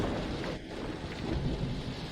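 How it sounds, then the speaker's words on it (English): Heavy rain pours steadily in Yangcheng, a dense, even hiss with a low thunder rumble rolling underneath throughout, close and continuous. "It's bad enough that Yangcheng is raining"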